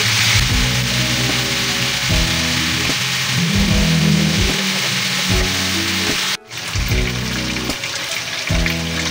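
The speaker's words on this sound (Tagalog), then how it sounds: "hintayin lang po natin na magiging golden brown yung ating chicken" Chicken pieces frying in hot oil for chicken pochero, a steady loud sizzle running throughout with background music layered over it and a brief dropout near the end.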